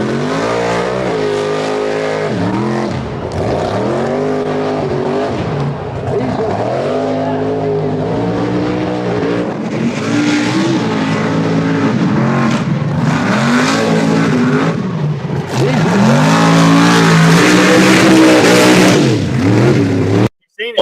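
A nitrous-powered drag race car at full throttle, its engine note rising and falling through repeated loud sweeping revs over about twenty seconds, with crowd or commentary voices partly mixed underneath.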